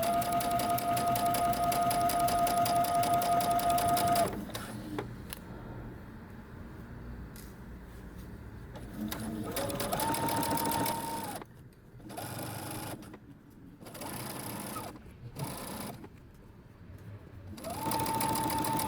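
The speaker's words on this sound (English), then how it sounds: "you're going to sew close to the edge, pulling your pins out as you get to them" A home sewing machine stitches along a fabric edge while a dress and top are made, with a steady motorized whir and high whine for several seconds, then stops and starts in short bursts amid faint handling noise.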